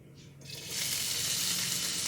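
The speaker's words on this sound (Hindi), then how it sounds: "यहाँ पर मैंने लिया है जी 4 से 5 चम्मच ऑयल, जिसको मैंने गरम कर लिया है। अब हम इसमें डालेंगे जी प्याज" Chopped onions drop into 4 to 5 spoons of hot oil and burst into a loud sizzle that builds within a second, then holds as a steady, close frying hiss with no talking.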